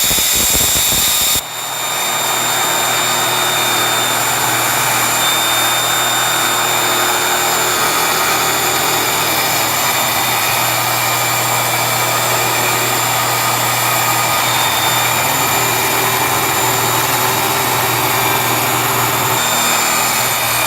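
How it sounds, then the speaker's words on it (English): A circular saw riding a guide rail rips through subfloor boards for a bus home build, a loud, steady whine that starts abruptly and runs unbroken for about twenty seconds. "all I do is put my my circular saw on that rail, and I start it, and then I just drop it down"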